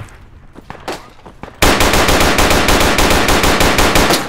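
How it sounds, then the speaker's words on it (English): Sustained automatic gunfire in the tactical shooter Project Reality, a loud rapid burst of evenly spaced shots that cuts in abruptly after a few scattered quieter shots and continues steadily to the end. "They're shooting at me."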